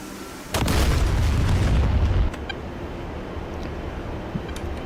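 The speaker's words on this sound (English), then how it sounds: "We did get the man pad with the secondary explosion, which is what I was hoping for." A loud, rumbling explosion from a bomb's secondary blast in a combat flight video game erupts early and holds heavy low rumble for about two seconds, then settles into a steady engine-like drone with a faint tone or two.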